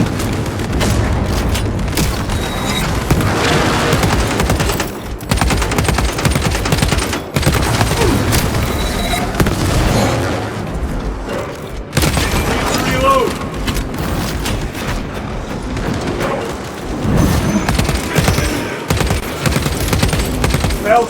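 Heavy combat in the video game Warhammer 40K Space Marine 2, with a frag grenade blast among dense gunfire, booming explosions and machine-gun bursts, loud and continuous, while voices shout over the chaos.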